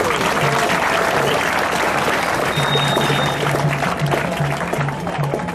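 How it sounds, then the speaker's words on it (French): Loud, dense applause from a crowd at a public event in Bas-Congo, continuous clapping throughout with a faint repeating tone underneath. "ezali nde Joseph Kabila Kabange nasengi bobetele maboko makasi."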